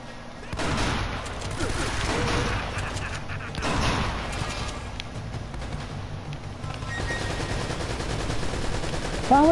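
Shotgun and gunfire blasts in the video game Uncharted, a dense run of repeated sharp shots and explosive bursts from the game that continues through the whole span.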